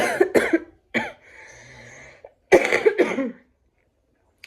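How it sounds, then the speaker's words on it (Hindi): Several sharp coughs in separate bursts, close and loud, with short pauses between them and a quieter rasping stretch in the middle. "मुझे बहुत ज़्यादा खांसी है"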